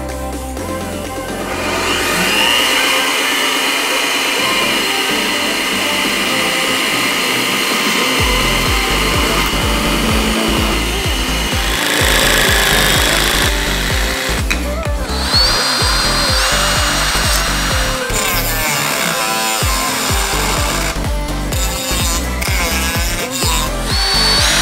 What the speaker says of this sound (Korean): 자, 이제 모터가 연결되도록 구멍을 뚫어주고요.